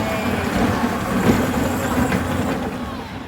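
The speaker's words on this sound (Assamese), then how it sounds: "আকাশী ৰেলপথ সৰ্বভাৰতৰ দীৰ্ঘতম আকাশী ৰেলপথ" An elevated sky rail train runs through a children's park, the longest such elevated railway in India, giving a steady, moderately loud rumble with faint rhythmic clatter throughout.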